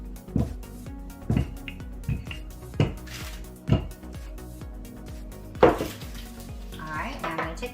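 A knife cutting pastry dough into squares on a board for apple dumplings, a series of distinct close thuds and knocks against the board, about six strikes spaced unevenly, with faint clatter between.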